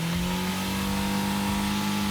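Boat car engine revving hard during a tire burnout, a loud, sustained droning roar with a steady pitch held close for about two seconds.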